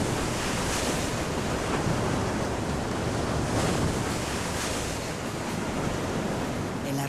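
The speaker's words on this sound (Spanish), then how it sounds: "Hombres, animales y plantas sufren la violencia del viento y del mar" Violent hurricane wind roars over crashing sea surf along a mangrove and reef coast, a dense, continuous loud rush of water and gusts throughout with no voices.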